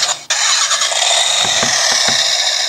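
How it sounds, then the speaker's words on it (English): Kamen Rider W Accel Driver toy playing its engine sound effect, a loud electronic revving motorcycle-like whine with a brief dropout early on and a few rhythmic thumps toward the end. "it's going to make that engine idling sound"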